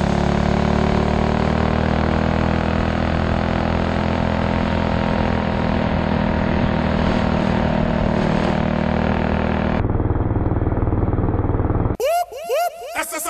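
A vintage go-kart kit engine labors uphill, a steady loud droning buzz that drops in pitch near the end before a brief burst of other sound; close and continuous.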